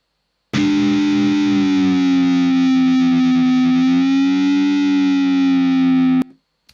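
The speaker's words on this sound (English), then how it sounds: "it's a note, but with a little bit of whammy bar action and just just bending the neck a little bit" A single sustained distorted electric guitar note, held for about six seconds with slight pitch wavering from whammy bar use and bending the neck, then cut off abruptly.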